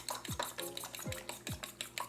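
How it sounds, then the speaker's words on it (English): Two eggs are beaten in a bowl, a quick run of sharp rhythmic clinks and taps of a utensil against the bowl, close and quiet, with no voices. "we are just going to beat the eggs"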